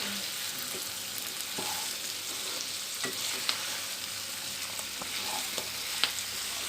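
Green paneer masala sizzles and fries in a frying pan while being stirred, a steady hiss with occasional soft scrapes and clinks of the spoon, fairly close.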